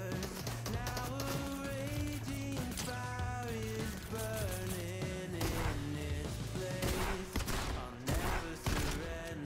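Gunfire in the video game Fortnite: sharp bursts of shots cutting through loud, continuous game music, with a few clustered volleys standing out near the end.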